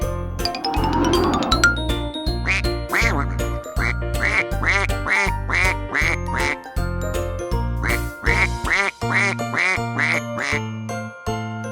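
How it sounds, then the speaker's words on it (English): A cartoon duck quacks repeatedly in a children's learning animation, short bright quacks in a regular rhythm over bouncy jingling music, with no talk heard. "Duck."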